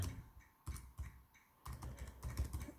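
Keys on a computer keyboard clatter in quick, quiet bursts with short pauses between them, as personal details are typed into an online form for a fishing permit fee.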